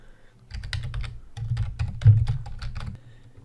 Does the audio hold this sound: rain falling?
no